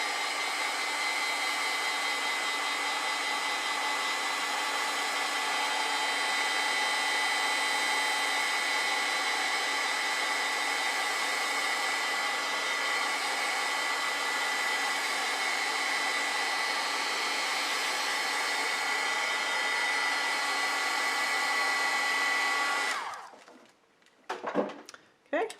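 A hair dryer blows on watercolor paint, giving a loud, steady whirring hiss that runs unbroken for over twenty seconds and then cuts off, followed by a few brief clatters.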